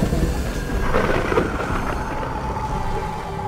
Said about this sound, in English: There is a clap of thunder, and his body becomes painted by red light.